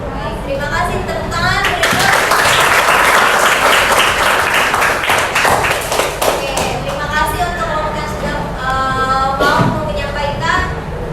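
A classroom group applauds after a marketing presentation, loud and close, with steady clapping that swells and then tapers off as voices talk over it.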